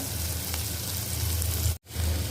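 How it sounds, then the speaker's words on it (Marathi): Onion sautés with asafoetida in a hot pan, giving a steady, even sizzle that runs the whole time with a brief cut near the end. "हिंग टाकायचं कांदा टाकायचा आणि कांदा आपण परतून घेऊया"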